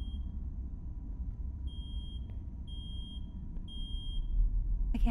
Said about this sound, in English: Our alarm's going off.